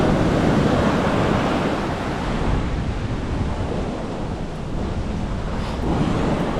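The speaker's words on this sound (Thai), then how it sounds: "ใช่คลื่นค่อนข้างแรง" Strong ocean waves crash continuously at Jerman Beach in Bali, a loud, steady roar of surf mixed with wind buffeting the microphone, with no talking.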